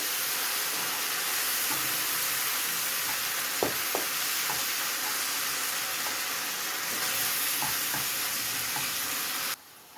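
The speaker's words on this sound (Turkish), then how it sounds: "Yarım su bardağı sıcak su ekliyorum." Steady loud sizzling of peppers frying in a pan as hot water is added, with a few soft clinks and stirring sounds, continuous throughout before cutting off abruptly at the end.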